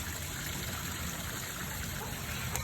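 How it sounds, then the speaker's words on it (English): A waterfall flows in a natural river, giving a steady, broadband rush of water that holds at an even level throughout without pause. "And we also found a waterfall, and it's very beautiful."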